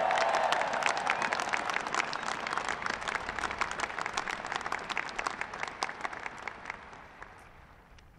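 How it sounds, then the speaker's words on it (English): A large crowd at a U.S. Air Force Academy graduation ceremony breaks into loud, sustained applause, densely packed claps with a cheering voice near the start, gradually thinning and fading over about eight seconds. "Give them a big round of applause."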